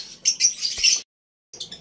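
African lovebirds give bright, close chirps in a short burst, fall briefly silent, then chirp again.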